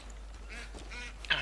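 A duck in the video game Far Cry 5 gives a single short quack at the very end, faint and distant over quiet game ambience.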